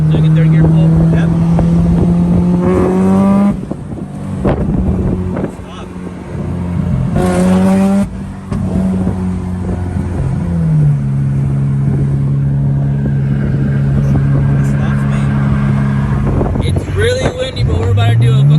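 Supercharged AP2 Honda S2000 doing a third-gear pull on a windy day, the engine note climbing loudly in rising sweeps with gear changes, wind buffeting the microphone and voices talking over it.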